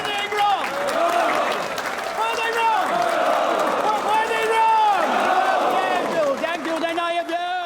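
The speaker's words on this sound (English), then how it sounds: "that's just Gary working the crowd there" A large crowd in a period film scene set in Parliament cheers and shouts continuously over a loud hubbub, with overlapping raised voices and rising, falling calls throughout.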